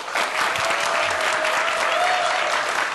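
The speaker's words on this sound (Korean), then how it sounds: "큰 박수로 환영해 주세요." A crowd applauding steadily and loudly, a dense wash of clapping that holds for a few seconds without letting up.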